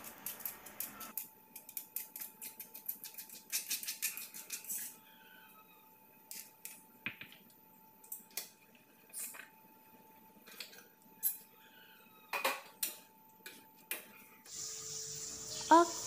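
Garlic, ginger and pepper pounded in a mortar in a home kitchen while cooking free-range chicken: a run of sharp, irregular knocks and thuds, close and fairly clear, with brief pauses between bursts and a scrape near the end.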